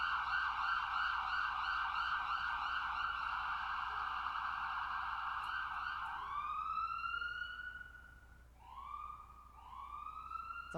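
A wailing emergency siren sweeps up and down steadily, then switches to shorter rising whoops near the end, loud and without voices.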